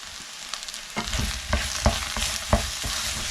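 Spiced aubergine and potato pieces are stirred in a nonstick pan, with a steady frying hiss broken by several sharp scraping and clacking spoon strokes about once every half second to second, close and moderately loud, and no talk.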